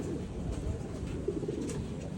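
Racing pigeons cooing and stirring at a loft trapdoor, a steady murmur of soft coos close by with faint background noise throughout.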